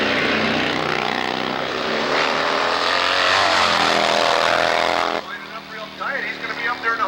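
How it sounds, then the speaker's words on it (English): Nitro-fueled 108 cubic inch Harley drag bike, single-speed Pro Fuel class at a drag strip, a loud sustained engine roar with rising pitch that cuts off sharply after about five seconds, followed by crowd and announcer noise. "This bike puts on a lot of horsepower. It's 108 cubic inches. It's running on nitro."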